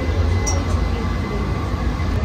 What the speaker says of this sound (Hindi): या तो अभी हम लोग ट्रेन में आ गए हैं।